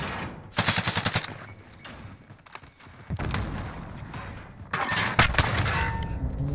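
Video game gunfire in an iron-sight shooter: loud rapid automatic bursts come in three separate volleys, each lasting about half a second to a second, with quieter room tone and faint game noise between them.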